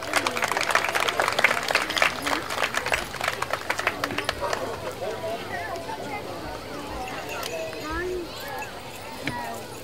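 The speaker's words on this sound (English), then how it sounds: "Let's give her a round of applause at this time." Spectators at a Sac & Fox traditional night give a round of applause for the Senior Woman of the Year. The clapping is loud at first, then thins and fades under crowd voices and background movement.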